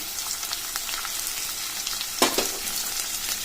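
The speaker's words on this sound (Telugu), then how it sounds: "ఆ తర్వాత మనం కట్ చేసి పెట్టుకున్న టమాటా ముక్కలు కూడా వేసుకోవాలి." Chopped tomato pieces go into a frying pan of lentils for a pulusu. A continuous close sizzle carries on, then a sudden louder hissing burst comes near the end as the pieces hit the hot pan.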